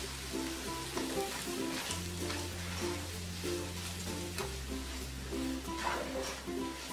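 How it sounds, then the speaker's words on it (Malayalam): Semolina (rava) roasting in a pan for upma gives a steady crackling sizzle with occasional stirring scrapes, nearby and continuous over low sustained tones, with no talking. "ഈ എടുത്തു വെച്ചിരിക്കുന്ന റവ ഇതിലിട്ട് വറുത്തു കൊടുക്കാം"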